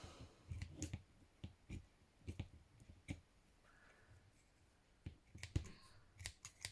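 Scissors snip through paper for a junk journal in quick, quiet, irregular clicks and cuts, close up with no talking.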